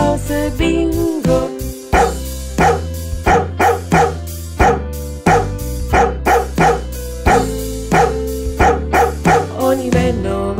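A dog barks in rhythmic repeated yaps over a bouncy children's song backing, each bark landing on the beat, loud and close, with no talking.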